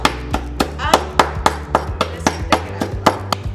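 Repeated sharp knocks, about a dozen evenly paced hard strikes, the back of a knife tapping and crushing brittle hard candies.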